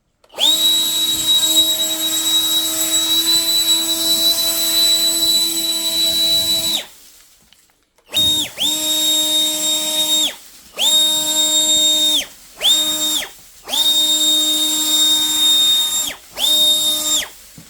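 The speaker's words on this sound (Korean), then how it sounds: "무선 송풍기 한번 불어볼게요." A loud, steady high-pitched whine from a cordless leaf blower runs continuously, then cuts off and restarts in several short bursts near the microphone.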